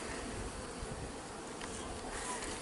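A dense, steady buzzing of many honeybees, close and continuous, with no voices.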